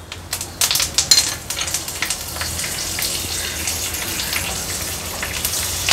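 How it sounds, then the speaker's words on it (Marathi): Curry leaves and green chillies drop into hot oil, setting off a burst of loud spattering crackles that settles into a steady, close sizzle. "कढीपत्ता आणि मिरची तेलावर थोडासा परतून घ्यायचं आहे"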